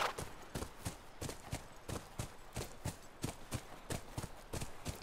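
Steady clip-clop of horse hooves at a walking pace in The Last of Us, regular sharp knocks repeating about twice a second, fairly close and alone.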